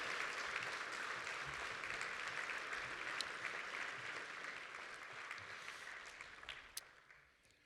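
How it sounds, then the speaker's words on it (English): Applause for newly inducted National Honor Society members fills a banquet hall, a dense, even wash of many hands clapping at a distance that holds steady and then fades out near the end. "Could I get a round of applause for our newly inducted National Honor Society members"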